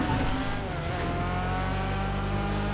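Annis ZR350, a GTA Online tuner car modelled on the Mazda RX-7 FD, drives with a steady loud engine drone and shifting revs across the whole stretch, with faint tire noise and no talking.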